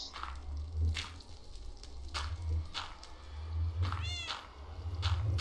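A Siamese cat in the Minecraft video game lets out several short meows spaced across the moment, over low rumbling game background sound, with one rising, wavering cry near the end.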